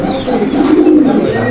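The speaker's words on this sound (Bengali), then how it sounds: "কোকা কবুতরটা আলহামদুলিল্লাহ অনেক চমৎকারভাবে ডাক দিল" A koka pigeon coos up close, a loud, deep, rounded call rolling continuously through the moment, with no other sounds over it.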